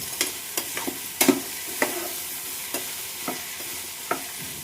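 Ginger-garlic paste fries quietly in oil in a pan, giving a soft, constant sizzle broken by a handful of sharper spoon taps and stirring scrapes.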